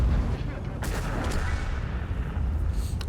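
A Centurion Action X tank fires its cannon in World of Tanks, a booming shot over a steady rumble of engine and battlefield noise.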